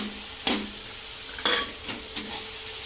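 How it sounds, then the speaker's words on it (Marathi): Capsicum stir-frying with crushed peanuts in a pan, a soft sizzle under a few sharp scraping stirs of a spoon, spaced about a second apart, quiet and close. "ह्याला पण परतून घ्यायचं आहे बघा हे असं"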